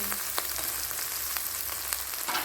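Poppy seed paste and ground nut paste frying in a pan, a steady hissing sizzle with a few light taps of a spatula, close and even, no voices.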